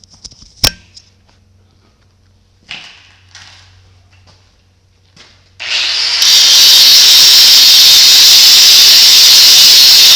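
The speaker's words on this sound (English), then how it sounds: "we're going to dress that up with the grinder a little bit more here" An angle grinder dresses a weld on a steel chopper hitch and bumper, starting after a few quiet clunks and then running loud and steady with a bright, hissing whine to the end.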